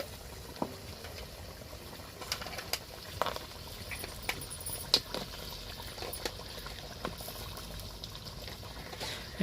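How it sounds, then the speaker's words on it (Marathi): Crab curry with large river crabs simmering in a covered pot, a low steady bubbling and soft popping with occasional small splashes, close and fairly quiet throughout, with no talking. "हे बघा एकदम भारी शिजायला लागले उकळे आले त्याला"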